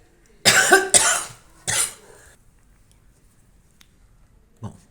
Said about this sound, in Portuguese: Vou tossir